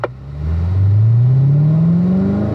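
Race car engine at Spring Mountain rising steadily in pitch as it accelerates on power down the straight, loud and close, a brief click at the start then a continuous climbing drone.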